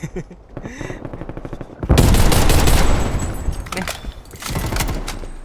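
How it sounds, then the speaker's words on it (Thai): A Type 63 tactical rifle fires in Call of Duty: Cold War as a loud, sustained close-range burst of rapid shots, then a second burst after a short gap. "ดูนะ ยิงยิงยิง เห็นปะ ปืนนี้มันไม่ต้องใช้ สกิลอะไร มันจะไม่มี รีคอย"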